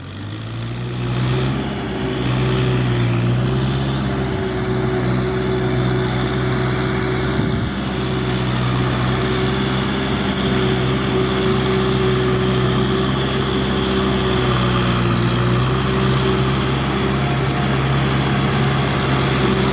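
A Kubota M6040 tractor's turbocharged direct-injection 2,434 cc diesel engine runs steadily while ridging a cassava field, a loud, close, continuous drone with a strong low hum and no talk.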